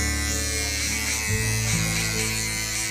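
A small electric hair clipper running during a men's haircut, a steady close buzzing drone that shifts to a lower, heavier tone partway through as it presses into hair, continuous and loud with no talk.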